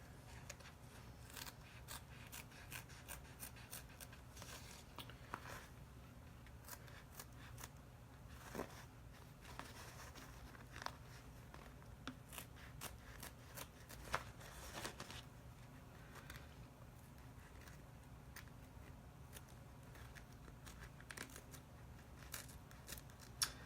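Rapid, repeated scissor snips slicing through stiff glitter vinyl, a steady run of crisp cuts with no talking.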